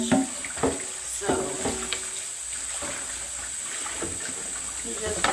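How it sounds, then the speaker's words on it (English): Soft splashing and sloshing of a small bowl being washed by hand in hot soapy dishwater, with irregular gentle water movements and a steady faint hiss in the background. "you just wash your dishes in the soapy water, nice and clean"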